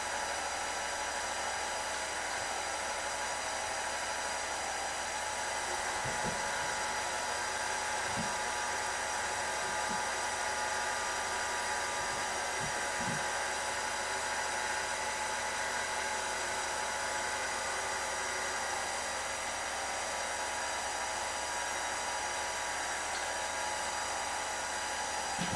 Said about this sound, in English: On the KitchenAid, that's about the 5 or 6 setting.